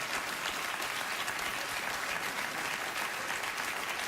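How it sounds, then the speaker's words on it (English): Studio audience on a late-night talk show breaking into applause after a comic rant, a dense, even roar of many hands clapping throughout, with no voices over it. "The audience just applauded a diatribe against Mr. Peanut."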